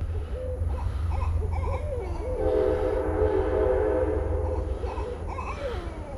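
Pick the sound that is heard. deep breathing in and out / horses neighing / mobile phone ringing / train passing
train passing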